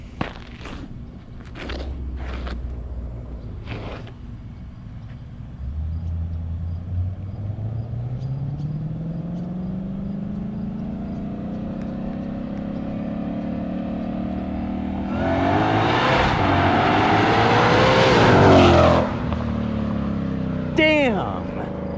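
2021 Ford Mustang Shelby GT500 accelerating hard on pavement, the engine climbing from a low rumble to a loud roar, with a few short voice bursts early and excited talk near the end.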